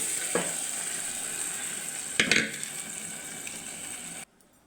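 Garlic sizzles in hot oil in a pan for a tempering, a steady hiss with a couple of louder crackling bursts, before it cuts off abruptly near the end.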